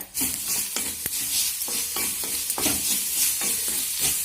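Turmeric-coated ingredients sauté over a low flame in a pan for a turkey berry (sundakkai) stir-fry, with a steady soft sizzle and repeated scraping spatula strokes that come in a loose, even rhythm, close and alone.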